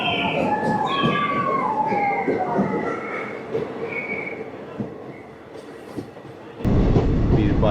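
A passenger train runs between Banihal and Srinagar, its rolling rumble steady throughout, with high whistling or squealing tones early on and a louder burst of rail noise at the end.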